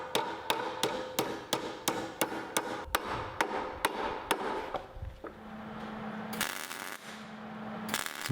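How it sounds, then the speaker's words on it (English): Hammer tapping a square steel bar down while building cable railings for a barn deck: a rapid, even series of about a dozen metallic taps, close and clear, then a lower steady hum and hiss. "Tapping the square bar down just a little bit"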